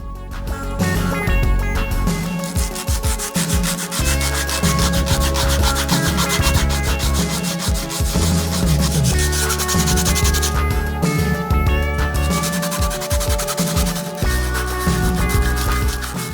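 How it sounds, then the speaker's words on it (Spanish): Steady hand sanding of a 3D printed PLA or resin part, a continuous rough rubbing scrape with short strokes, close and loud, with brief pauses and no talking. "Lo voy a lijar."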